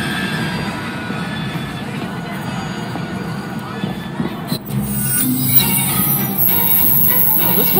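A train rumbles steadily in the Assassin's Creed Syndicate video game, with a continuous dense roar of rolling wheels and rail noise, plus a few metallic clanks near the end.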